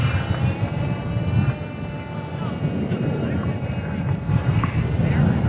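ESKY Sparrow RC biplane with two brushed motors flying outdoors in light wind, giving a steady, quiet motor whine under broadband wind and handling noise, with no speech.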